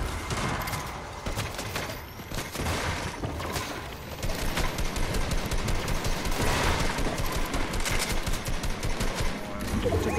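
Rapid gunfire crackles through a Fortnite match in dense, continuous bursts that grow louder and steadier in the second half, a busy close-range firefight with no voices over it.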